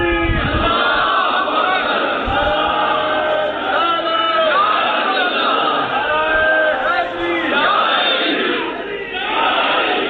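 A large religious audience chants a slogan together during a sermon about Hazrat Umar, many voices rising and falling in loud, sustained unison with crowd noise throughout.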